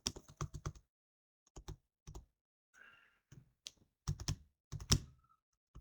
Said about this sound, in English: We will type here April 2027